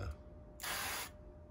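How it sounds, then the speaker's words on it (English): An aerosol can sprays onto a hot 8-inch Dash griddle in one close, steady hiss lasting about half a second, with no talk. "So I'm going to spray it down with this"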